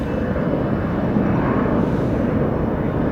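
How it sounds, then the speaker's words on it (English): An Airbus A320 climbs away from a nearby airport, its engines making a steady, loud broadband roar that fills the air without pause, with no voices over it. "There's a plane taking off."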